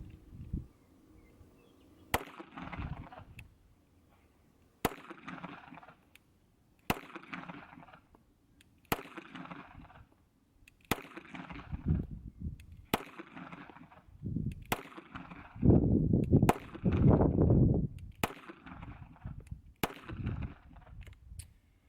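A SCCY CPX-2 pistol fitted with a new slide, barrel and guide rod fires ten rounds outdoors, sharp cracks spaced about two seconds apart, each with a short echoing tail, and louder rumbling noise toward the end.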